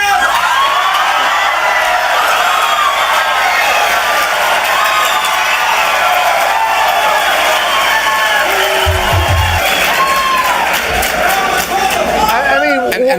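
A crowd at the Values Summit cheering and whooping loudly and continuously at news of Speaker John Boehner's resignation, a dense roar of voices and yells throughout.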